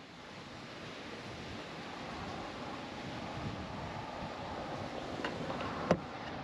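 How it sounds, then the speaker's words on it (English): Creek water running into a hydroelectric powerhouse makes a steady, broad rushing roar that builds slightly and stays constant, with a brief knock near the end and no talking. "So they got the creek running in, generating the power there."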